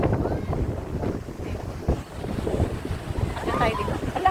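Strong wind buffets the microphone steadily at Qiding Beach in Taiwan while waves surge and wash nearby, a continuous loud roar with no break.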